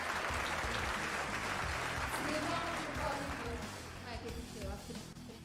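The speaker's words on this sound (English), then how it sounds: "We need a round of applause here" Loud crowd applause and cheering at a MotoGP team presentation show for Gresini Racing, a thick roar of clapping that eases slightly toward the end.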